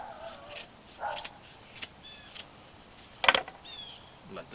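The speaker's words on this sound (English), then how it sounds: "Let the dogs bark in the background." Dogs barking faintly in the distance, a few short scattered yelps spread irregularly over a quiet rural background with some light clicks, and no one speaking.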